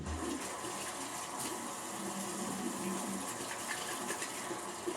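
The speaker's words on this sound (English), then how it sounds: "Next step I do, gotta wash the hands." Running tap water pours steadily from a faucet as hands are washed under it, a close, continuous splashing rush with no talk.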